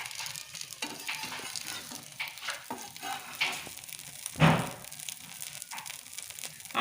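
A prawn omelette sizzling in plenty of oil in a pan, a soft steady frying hiss with occasional crackles and a brief louder spatter, close and without speech.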